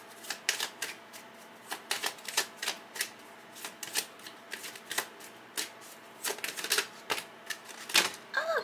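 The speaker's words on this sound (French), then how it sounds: "Je vais tomber toutes les cartes." Tarot cards shuffled and dealt out close up, a busy series of crisp flicking snaps and taps in uneven bursts with short pauses between, no voices heard.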